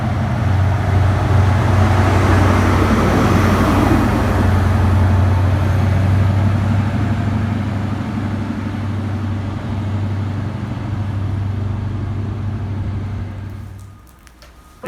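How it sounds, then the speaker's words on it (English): A Class 43 HST power car idles at Market Harborough railway station, a loud, steady diesel engine drone with a deep rumbling hum that holds for most of the time, then drops away abruptly near the end. "This is the sound of the power car."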